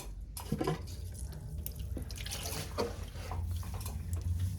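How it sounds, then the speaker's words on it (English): Tap water runs steadily into a sink while a sponge is wetted and squeezed during pottery wheel cleanup, with splashes and drips over the continuous flow. "Dampen it just a little, like wet it and squeeze it out."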